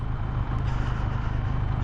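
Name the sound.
cement truck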